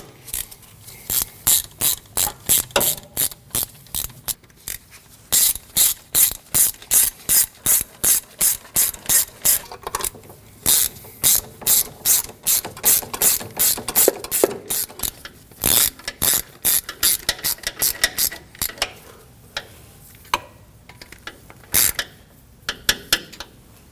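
A ratchet snugs down the starter bolts on a 2015-2022 Chevrolet Colorado 3.6L V6, clicking in rapid repeated bursts of loud, close pawl ticks with brief pauses between strokes.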